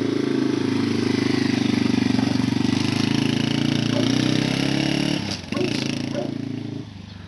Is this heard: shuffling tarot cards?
no